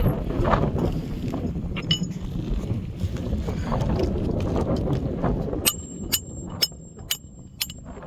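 Nails being installed on a roof, with a run of sharp metallic hammer strikes near the end, about five ringing blows in an uneven rhythm over a busy, noisy outdoor background.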